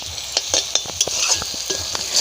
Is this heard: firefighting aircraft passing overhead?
no